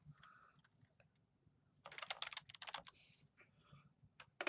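Keys clatter on a computer keyboard as a command is typed, with scattered single taps followed by a quicker, louder run of keystrokes, close and otherwise quiet.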